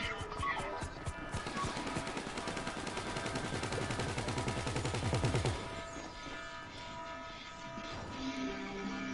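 Automatic gunfire from helicopter gunners in GTA Online rattles in fast continuous bursts, loud and steady for about five seconds, then gives way to quieter game noise; voices speak over it.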